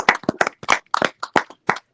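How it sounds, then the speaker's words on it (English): Several sharp, separate hand claps from a small group ring out in an uneven, sparse round of applause, close and clear with short silences between. "I want you all to just give a round of applause for yourselves."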